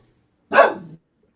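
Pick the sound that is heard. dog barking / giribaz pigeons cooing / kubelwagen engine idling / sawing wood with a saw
dog barking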